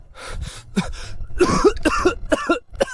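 Several harsh, close coughs in quick succession, with throaty rasping between bursts.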